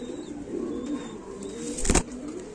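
Rampuri pigeons cooing in soft, repeated low murmurs at close range, with a sharp rustle or flutter of wings near the end and no talking.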